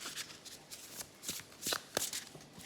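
A matte-finish tarot or oracle deck is shuffled by hand in quick, soft riffling bursts, the cards sliding smoothly with a light papery flutter, close and quiet with no voice.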